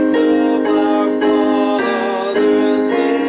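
Solo piano playing the hymn Faith of Our Fathers, sustained chords struck in a steady hymn rhythm, each new chord landing about every half second to second, full and close.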